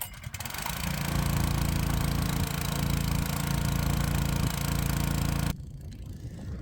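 A small pull-start engine on a water pump fires up and settles into a loud, steady idle close by, running continuously before cutting off abruptly near the end.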